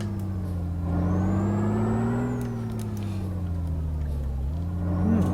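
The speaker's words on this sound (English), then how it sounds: "1300 horsepower mod. Anyway, that's that sounds a bit different, doesn't it?" A truck engine fitted with a 1300 horsepower mod in Euro Truck Simulator 2 drones steadily and loud, its pitch rising slightly, then sagging and climbing again as the throttle shifts.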